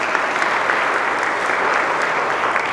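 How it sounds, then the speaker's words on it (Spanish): Continuous applause from a large audience, a dense wash of clapping sustained at even loudness throughout. "Denle el aplauso al Rey y Señores"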